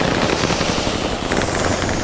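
Rapid gunfire from a Sten submachine gun class setup in Call of Duty Vanguard multiplayer: a dense, continuous crackle of shots and impacts at steady loudness, with no talking.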